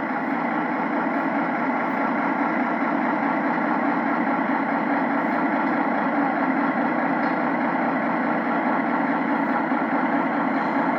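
A big ACO semi-tractor truck engine idles steadily, a continuous broadband rumble and hum at constant loudness with no variation or voices.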